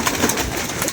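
About thirty pigeons are let out of their cages by a pigeon keeper, making close, busy cooing mixed with a soft fluttering rush throughout one brief moment.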